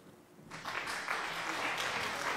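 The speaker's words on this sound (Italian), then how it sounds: "Applausi per Gaia" Applause during an online game stream swells up after a quiet start and turns into a steady patter of clapping that carries on to the end, moderately loud.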